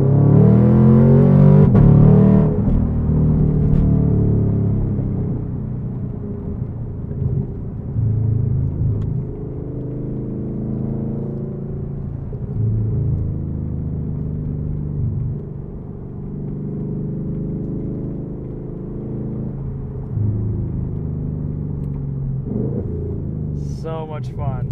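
Deep, throaty exhaust of a modified 2017 Chevrolet Camaro SS convertible, rising hard under acceleration at first, then settling into a steady loud rumble with shifting tone, heard from inside the car with no talking over it.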